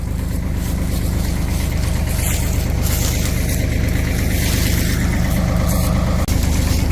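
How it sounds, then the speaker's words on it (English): Old farm tractor engine running steadily nearby, a loud continuous low rumble with an even throbbing rhythm and a brief dip near the end, no voices over it. "driving my tractor."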